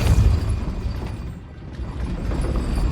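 Depulso spell cast in Hogwarts Legacy: a loud, close magical blast with a deep booming burst at the start, fading into a rumbling, whooshing tail, with no talking.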